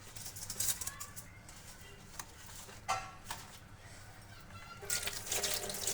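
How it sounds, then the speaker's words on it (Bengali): Water running from a tap while potted plants, including a money plant, are washed, an uneven splashing flow with louder gushes, faint birdsong in the background. "সুন্দর করে গাছগুলো ধুয়ে নিচ্ছি।"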